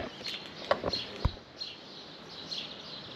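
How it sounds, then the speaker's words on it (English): A few faint, scattered bird chirps in a quiet outdoor seaside setting on Laganas, Zante, with soft distant calls and a low background hush. "Few birds chirping."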